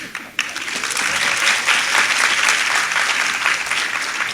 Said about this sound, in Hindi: ऐसी तालियां ऐसे बजा रहे हो जैसे आपने 1 वीक से कुछ खाया ही नहीं है